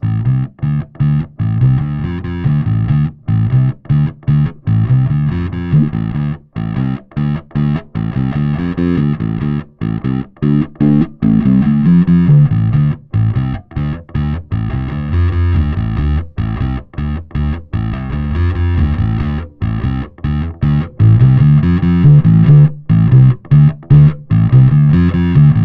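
A bass plays through an Electro-Harmonix Deluxe Bass Big Muff Pi fuzz with a low-pass filter on the dry signal, a loud, heavy, darker distorted riff of choppy repeated notes with brief gaps, continuing for about twenty-five seconds without talk.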